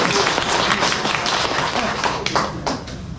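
Audience applause at a health lecture in a church hall, a dense, steady clapping from many hands that fills the whole stretch without a break, with a few sharper claps standing out near the end.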